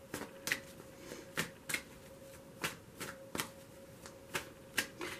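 Tarot cards drawn and laid from a deck during a Cancer reading, giving sharp papery slaps and snaps at an irregular pace over a quiet room with a faint steady hum.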